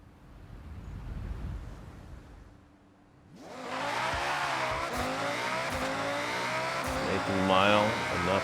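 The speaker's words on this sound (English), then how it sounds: "That is drifting in a Ferrari." A Ferrari drifting at speed in the racing game Forza Horizon: after a few seconds of low rumble, a loud engine roars in and holds a high, sustained revving pitch, with brief tire-squeal tones near the end.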